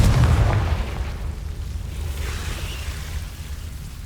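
A Confringo fire spell bursts in Hogwarts Legacy on PlayStation 5, a single deep, loud explosive boom that rolls off into a long, rumbling decay.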